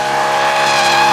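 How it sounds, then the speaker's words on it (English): A naturally aspirated V8 in an open-top BMW M3 convertible sings at high revs, a loud, sustained, slightly wavering engine note with a faint squeal of tires over it. "the incredible sound of a naturally aspirated V8 in a package with no roof over your head"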